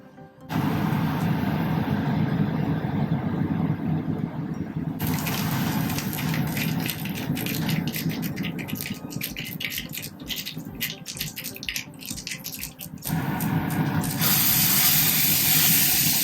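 Mustard seeds splutter and crackle in hot coconut oil, a dense, continuous sizzling with rapid popping bursts that runs steadily and close throughout, with no talking over it.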